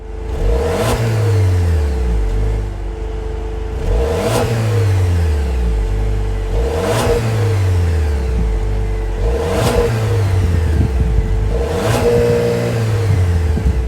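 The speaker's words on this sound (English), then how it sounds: "let's fire up this 2-liter turbocharged 4-cylinder engine and hear how she sounds." A 2024 Dodge Hornet GT's 2-liter Hurricane turbocharged four-cylinder engine revs hard about five times in a row, each loud rise dropping back before the next blip, recorded close up.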